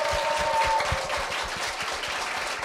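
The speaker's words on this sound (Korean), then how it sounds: "열렬한 환호의 박수 부탁드립니다." An audience at a 2017 middle-school speaking festival claps for its five contestants, a moderate, continuous patter of many hands that thins slightly toward the end.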